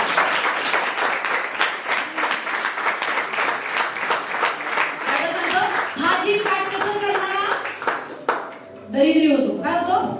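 A church congregation claps in steady rhythm during a live Marathi sermon. Loud, even hand claps repeat over the first half while a voice speaks and sings over them, then the clapping gives way to the voice.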